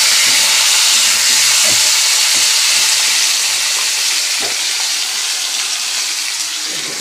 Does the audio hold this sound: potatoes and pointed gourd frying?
yes